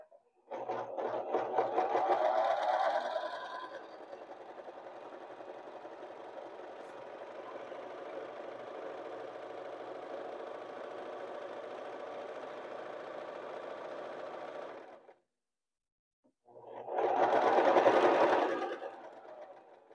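A sewing machine stitches a standard pillowcase, including a back stitch, its motor running loud and steady for about fifteen seconds, stopping briefly, then whirring again in a short final burst.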